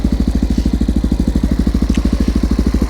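A Honda XR650L motorcycle single-cylinder engine fitted with a Lex exhaust idles close by, a loud, even, rapid thumping beat with no talk.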